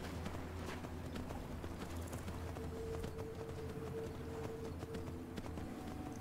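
Horse hooves clip-clop steadily in Skyrim, a continuous rhythmic patter over a constant low game ambience and music bed, moderately close and without any talk.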